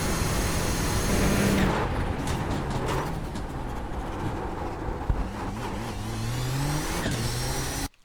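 Race car engine in an iRacing simulation lapping Circuit of the Americas, a steady loud drone that rises and falls in pitch through gear changes and cuts off sharply at the end, with no talking.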